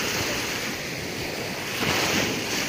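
Large, rough ocean waves surge and crash continuously in a dense, roaring wash, with wind buffeting close to the microphone during monsoon weather.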